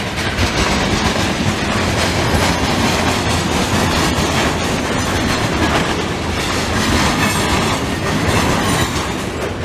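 CP freight train 650 rolls past up close in Delson, Quebec, late in the afternoon, a loud continuous roar of wheels clattering over rail joints with occasional squeal and no voices.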